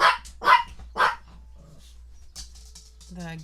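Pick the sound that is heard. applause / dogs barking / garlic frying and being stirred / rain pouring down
dogs barking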